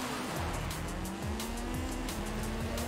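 Racing car engine in Forza Horizon 5 roars with steady rising and falling gear-shift pitch, tires squealing through corners, loud and continuous without talk.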